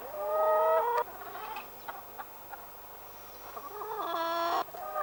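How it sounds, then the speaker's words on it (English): Seven backyard chickens cluck and squawk nearby, loud bursts of calls at the start and again near the end with quieter scattered clucks between. "These are the 7 chooks"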